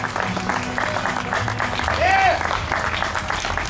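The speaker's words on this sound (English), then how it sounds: "You give them a round of applause, folks." A crowd applauds at an award presentation honoring guitarist Sammy Adkins, with steady dense clapping throughout and a brief whistle-like tone partway through, under some background voices.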